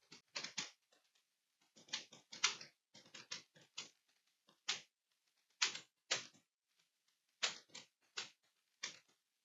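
Typing on a computer keyboard into Notepad on a Windows machine, heard as irregular clusters of soft, close key clicks separated by brief pauses, quiet and with no voices.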